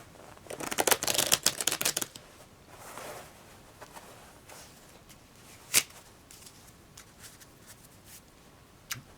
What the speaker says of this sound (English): cut the packet and shuffle it up a bit